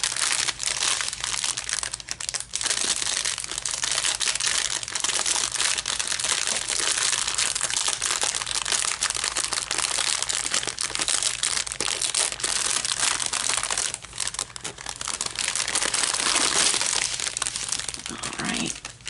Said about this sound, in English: pardon the crinkle